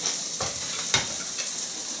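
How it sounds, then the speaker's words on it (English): Lamb neck pieces being stirred back into a pan with golden onions and celery, a few soft scraping strokes over a steady low sizzle of frying, no talking. "Give everything a quick stir."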